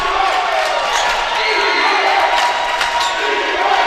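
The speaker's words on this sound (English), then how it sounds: "Defense is being chanted by the crowd." Loud, dense crowd roar fills a varsity basketball gym late in a tight game, the chant for defense swelling steadily under the din, with scattered higher shouts and cheers throughout.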